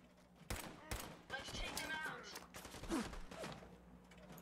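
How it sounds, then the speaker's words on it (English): Distant explosive blasts and bursts of gunfire from artillery strikes in the video game Fallout 4 (Automatron DLC), several sharp thumps over a dense, noisy battle din with a voice speaking faintly. "here come artillery strikes"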